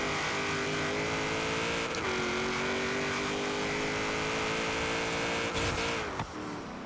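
A 1972 Ford Falcon XA GT-HO in Forza Horizon 3 holds a steady, loud engine drone while launching, with a brief shift and rise in pitch near the end and no talking.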